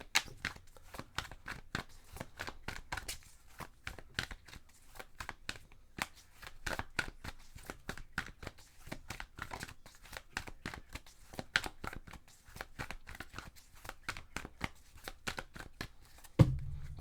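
Tarot cards being shuffled by hand, a long run of quick, soft riffling and slapping taps close by, rhythmic and steady for over fifteen seconds.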